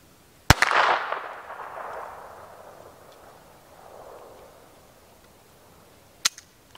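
A Beretta 21A Bobcat .22LR compact pistol firing Winchester 40 grain rounds outdoors: two sharp, loud cracks several seconds apart, the first followed by a long fading echo.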